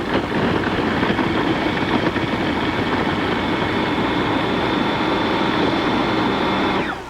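A food processor running continuously at full speed, a loud steady whirring drone of the motor and blade chopping food for several seconds before winding down at the end, no talk.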